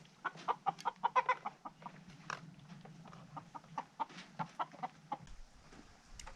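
Several chickens cluck and chatter nearby in quick irregular bursts on a farm while spraying, with a low background hum that drops away near the end.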